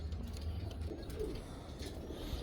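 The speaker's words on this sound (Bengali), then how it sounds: "এই যে আরেক পেয়ার লাখা কবুতর রানিং ডিম বাচ্চা হান্ড্রেড পার্সেন্ট ওকে আছে" Lakha pigeons in a loft give soft, low cooing calls against a quiet background hum, fairly faint and unbroken by speech.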